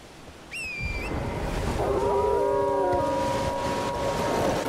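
Wolves in the video game Elden Ring howl, a short high cry followed by a chorus of long overlapping wails over a low rumbling game ambience, fairly loud and with no speech.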